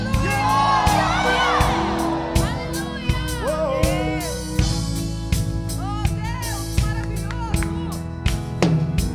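Church congregation shouting as loudly as they can during a choir performance, with bursts of loud, overlapping cries and whoops over ongoing music and singing.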